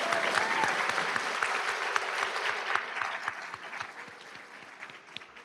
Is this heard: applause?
yes